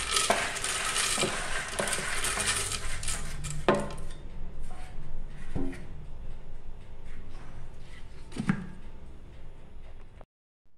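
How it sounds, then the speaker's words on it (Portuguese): A blender whirs steadily as it blends green banana for banana flour, a dense and loud continuous roar that runs for about ten seconds before cutting off abruptly. "Bateu no liquidificador"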